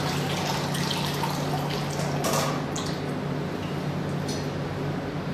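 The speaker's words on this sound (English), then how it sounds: "See the water go out from the vents, that means the water flow field inside." Water flows out of the cooling vents of a picosecond laser during installation, a continuous close rushing and trickling hiss with a low hum underneath.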